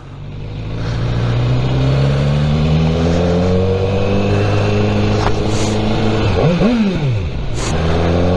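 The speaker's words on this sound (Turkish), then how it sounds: "Akrapovic egzoz sesi." A BMW S1000R motorcycle fitted with an Akrapovic exhaust revs hard and close, its engine pitch climbing and holding high, then dropping sharply before rising again, loud and alone with no talk.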